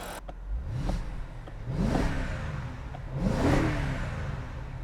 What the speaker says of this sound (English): That's one good sounding V8.